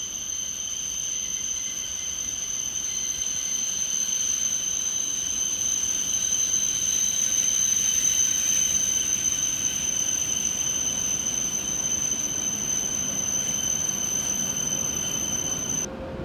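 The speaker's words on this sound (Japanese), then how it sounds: "一番線には15時22分発朝間480号東京行きやってきましたね。" A JR East E7 series Hokuriku Shinkansen train glides into a station platform with a sustained high-pitched squeal over a steady broadband rumble, loud and continuous throughout.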